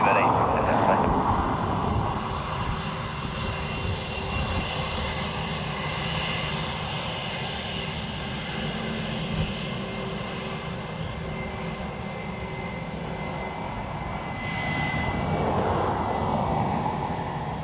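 A Netherlands Air Force C-130 turboprop lands at Dublin Airport, its engine drone and roar loud and sustained, swelling near the start and end, with faint voices in the background.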